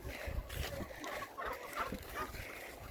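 Farmyard chickens cluck in scattered, fairly quiet bursts, mixed with rustling and low background noise.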